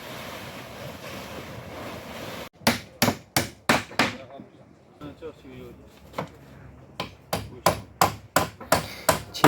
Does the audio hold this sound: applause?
no